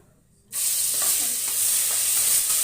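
Ground onion-garlic paste hits hot oil for a mutton sambar, a sudden loud sizzle bursting in after half a second of quiet and holding steady and close, no talking.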